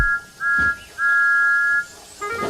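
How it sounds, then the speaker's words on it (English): Steam engine whistle of Thomas the Tank Engine in a children's animated railway show, sounding in three shrill, steady toots. The second toot is the longest, and all are loud and close. "The two were interrupted by the whistle of Thomas the Tank Engine"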